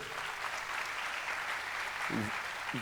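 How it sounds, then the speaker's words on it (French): A conference audience applauds steadily and closely throughout, a dense even wash of clapping, with a brief voice near the end. "Vous faites bien de l'applaudir"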